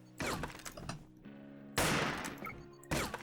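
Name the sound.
spraying gunfire from a video game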